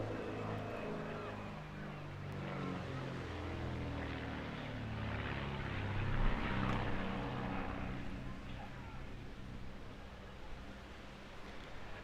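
Firebirds display team aircraft at a seaside airshow on the English Riviera, their propeller engines droning steadily and swelling toward a louder pass midway before easing off, heard from the crowd with some faint voices.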